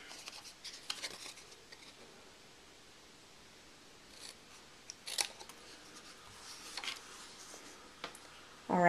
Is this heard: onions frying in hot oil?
no